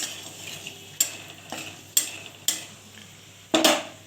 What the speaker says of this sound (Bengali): কুচি কুচি দিয়েছি শুকনো লঙ্কাটাকে